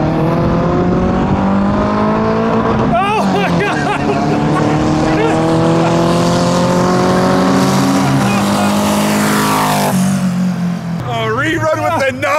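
A quad-turbo car drag racing a Supra, its engine roaring loud and continuous with rising harmonic pitch through gear pulls, heard near over voices talking throughout.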